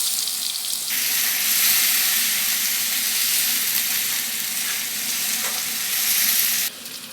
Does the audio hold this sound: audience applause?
no